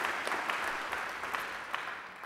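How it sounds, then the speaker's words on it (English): Audience applause fills a hall at a Macquarie University graduation ceremony, a steady patter of many hands clapping at moderate, even volume for a couple of seconds, with no voices over it. "And I think they deserve a round of applause too."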